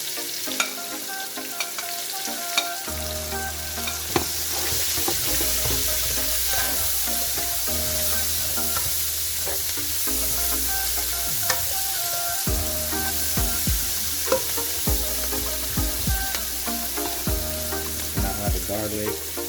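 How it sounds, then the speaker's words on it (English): Shallots sauteing in a pan for pork spareribs adobo, sizzling and frying loudly and steadily throughout, with occasional stirring scrapes and clinks layered over the constant hiss. "We're gonna saute the shallots there."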